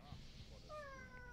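A house cat meows several times in quick succession, its high, wavering calls clear and close over a low background hum.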